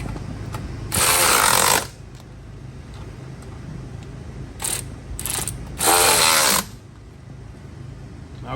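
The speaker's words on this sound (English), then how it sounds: "I'll get a ratchet to make sure it's nice and snug." A ratchet snugging the mounting bolts of a winch on a 2023 Jeep Wrangler gives two loud, close bursts of rapid clicking, with shorter clicks in between over a low background hum.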